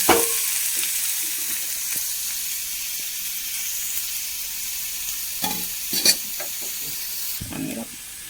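Sliced onion fries in oil with a close, even hiss and crackle, broken by a few spoon scrapes and knocks against the pan.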